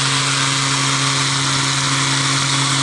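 Mirka Deros electric sander running at speed, a loud steady whine with a constant hum, close and unbroken throughout.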